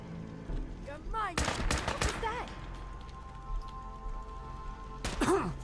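A lever action shotgun fires in Fallout 4, with a few sharp loud blasts clustered early and another near the end, mixed with game effects and a voice talking.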